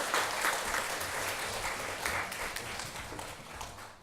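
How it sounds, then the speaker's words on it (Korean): A church congregation at a Sunday afternoon service gives a sustained round of applause, dense even clapping that fills the room at a fairly low level, with no talk on top. "박수 한번 보내주세요."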